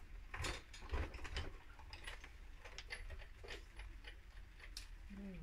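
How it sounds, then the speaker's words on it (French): A die cutting machine cuts out a card frame for a transparent card with dried natural flowers, giving a steady mechanical ticking and clicking of gears that runs throughout at moderate level, with a few louder clacks near the start. "machine de découpe. Et on découpe notre cadre."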